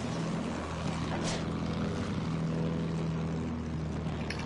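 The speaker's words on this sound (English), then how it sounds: "I got a plane on me." A propeller aircraft engine drones steadily overhead in a video game, a loud continuous buzz that holds for a few seconds amid battle noise.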